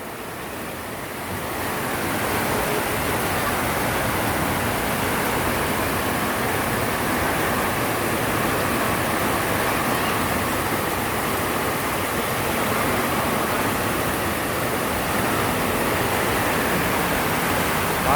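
Heavy rain pours down in Montalban, Rizal, where a river has flooded, as a dense, unbroken roar that swells after the first couple of seconds and then holds loud and steady, with no talking.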